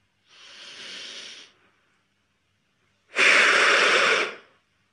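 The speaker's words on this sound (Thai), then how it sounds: "เป่าลูกโป่งไปนะครับเป่าลูกโป่งจนเต็มที่เลย" Two long breathy blows of air into a rubber balloon as a lung exercise after recovering from COVID, a shorter softer push followed after a pause by a louder, stronger one, with no talk.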